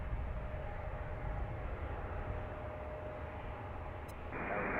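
An airliner departing runway 19 at Washington's DCA airport roars as a low, continuous, distant jet rumble that holds steady, with a faint tonal whine riding above it; no one talks.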